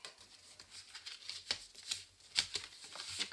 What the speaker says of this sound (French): vous pouvez venir plier, marquer tous vos plis,